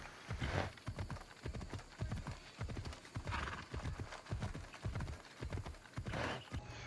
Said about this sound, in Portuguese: Mas em grande parte você vai estar de cavalo aí, explorando as terras da Grécia Antiga.